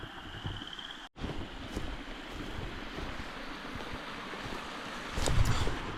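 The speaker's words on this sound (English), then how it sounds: "The river's ripping now." Fast-flowing spring river in Alberta beaver country, a steady broadband rush of water with wind buffeting the microphone, constant and fairly close, no speech.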